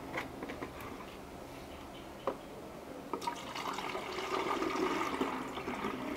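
Liquid soap mixture being poured back into a container during bar soap making, a steady watery pour that builds and thickens toward the end, close and fairly quiet.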